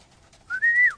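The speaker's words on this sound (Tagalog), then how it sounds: "Ayan mga kalapatids." A single brief rising, whistle-like pigeon call sounds close and clear over quiet background hiss, near a loft of racing pigeons.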